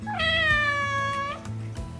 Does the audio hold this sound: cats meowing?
yes